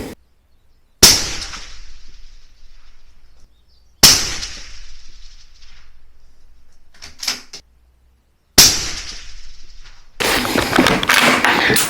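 Benelli Lupo bolt-action rifle fired at a target, three sharp, loud shots spaced a few seconds apart, each with a ringing decay, a brief rustle between them and a burst of broadband noise at the end.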